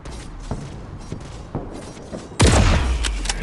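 Gunfire in the mobile shooter Guns of Boom: a few soft shots and thuds, then a loud burst of rapid shooting near the end, close and punchy with no talk.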